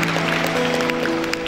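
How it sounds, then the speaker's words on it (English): Audience applause after a conference presentation, a short burst of even clapping that fills the room without any talk. "Please give applause for Bang Rusdi."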